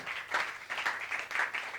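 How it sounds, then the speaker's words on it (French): A church congregation applauds in praise during a Catholic service at St-Albain, a fairly quiet, steady patter of many hands swelling in waves for a couple of seconds with no talk over it. "nous voulons donner une acclamation au Seigneur en reconnaissance"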